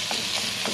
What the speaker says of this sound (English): we'll add our chicken. Let that fry up.